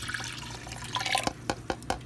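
Water poured into a crockpot holding pork tenderloin with soy sauce and Worcestershire sauce, heard as a soft steady trickle with several sharper drips and splashes near the end, close and fairly quiet with no talking.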